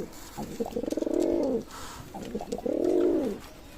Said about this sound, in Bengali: অসাধারণ টেডি কবুতর আজকে দিচ্ছি